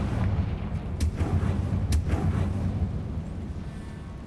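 Confringo blasting-spell explosions from Hogwarts Legacy boom heavily in a dense, rumbling barrage, with a couple of sharper cracks cutting through before the roar gradually fades.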